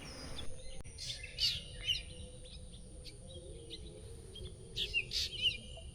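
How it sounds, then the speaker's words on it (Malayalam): Morning birds chirp by a riverbank lined with bamboo thickets near Karippuzha village, with short bright bursts of tweets repeating at a moderate distance over a low steady background hum. "കിളിയുടെ ഒക്കെ രാവിലത്തെ ചിലപ്പ് കണ്ടില്ലേ"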